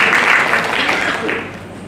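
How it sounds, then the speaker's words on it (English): A crowd claps loudly and continuously at an award ceremony, a dense round of applause that slowly tapers off toward the end. "Let us all give ourselves a great round of applause."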